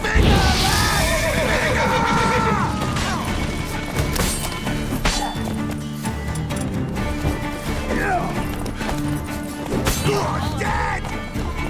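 A horse neighs amid clashing, crashing combat sounds in The Witcher 3: Wild Hunt, with game music and a voice talking over the dense, steady din.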